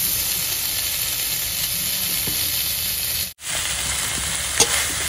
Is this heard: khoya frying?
yes